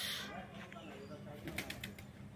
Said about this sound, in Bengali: বাড়ির ছাদে কবুতর চাষ, কবুতর পালন হচ্ছে